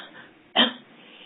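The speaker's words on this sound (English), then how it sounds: "if you put your hands on your sides and have a little cough" A person gives one short, light cough, a quick throat-clearing burst, loud and close in a quiet room.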